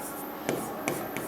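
Chalk or marker strokes on a classroom board as a teacher writes a sentence, with a few short scratchy taps over a steady room hiss.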